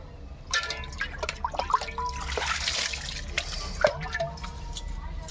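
Tap water splashing and dripping onto a body and the floor during an outdoor bath, irregular close splashes and drips with a few louder bursts, no talking.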